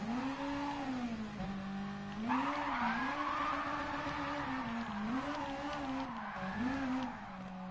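A drift car in a racing video game skids through a long slide, engine tone rising and falling with sustained tire squeal, steady and fairly quiet with no talking.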